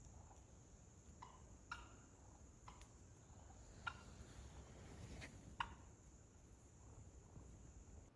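Several distant turkey gobbles ring out at intervals over a quiet outdoor background with steady insect chirping.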